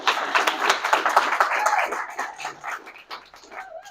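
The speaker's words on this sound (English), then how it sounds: "Give them a big round of applause" A small audience at a Sierra Club talk in Fort Worth gives a round of applause, close and uneven clapping that thins out and tapers off toward the end.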